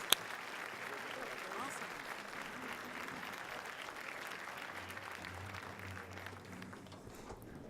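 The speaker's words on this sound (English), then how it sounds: "Let's give him a real round of applause." Sustained audience applause at a 2019 State of the City address for Mayor Alejandro Vargas of Hawthorne, dense and steady for several seconds before thinning slightly at the end, heard from a distance in a large hall.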